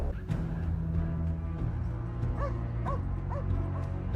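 A dog in a Fallout TV episode, the Ghoul's companion, gives a few short yips and whimpering barks over a steady music and sound-effects bed, fairly close and moderately loud.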